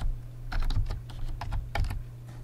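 Typing a Stata command on a computer keyboard, a quick run of close, crisp key clicks in uneven bursts over a low steady hum.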